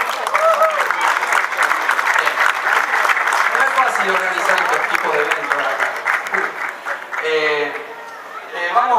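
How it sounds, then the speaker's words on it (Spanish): Applause for an organizer named Juan at a community music event, dense clapping and crowd noise filling the clip while someone speaks over it near the start; the clapping thins toward the end. "Juan, un aplauso para Juan."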